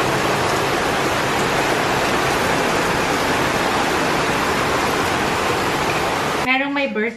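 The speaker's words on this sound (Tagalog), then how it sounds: "Ay, malakas ang ulan." Heavy rain pours steadily and loudly for most of the clip, a dense close hiss that breaks off near the end, where a voice speaks briefly.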